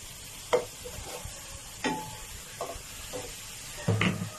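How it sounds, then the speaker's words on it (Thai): Fresh shiitake and other mushrooms stir-frying in a pan for a vegetarian long bean dish, with a low continuous sizzle and several distinct scraping clacks of a spatula stirring at irregular intervals. "ใส่เห็ดหอมสดลงไปกับเห็ดออริจิเอาไปผัดให้มันสุกก่อนครับ"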